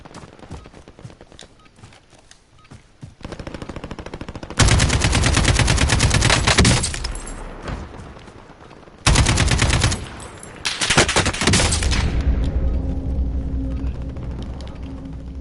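AK-47 fire in the Warzone game, fitted with the wrong stock and a bigger barrel, comes as two long, loud, sustained automatic bursts between quieter sparse shots and background noise.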